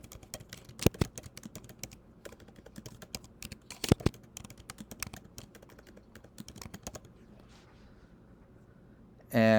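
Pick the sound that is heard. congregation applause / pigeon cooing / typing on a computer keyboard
typing on a computer keyboard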